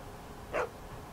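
A dog in The Walking Dead video game gives a single short bark, moderately close, over a low steady background hum.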